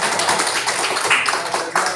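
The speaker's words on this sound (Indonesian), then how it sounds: "tepuk tangan untuk Marto" Students in a classroom clap for a classmate, a dense patter of many hands at close range, continuous for about two seconds.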